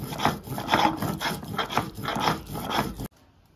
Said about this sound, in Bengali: আর মা বাদামটা বেটে দিক